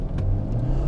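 A 2019 Volvo V60 T6 Inscription AWD wagon's twin-charged engine pulls hard on a wet, straight road, giving a steady, loud, close low rumble and whir with no voices over it.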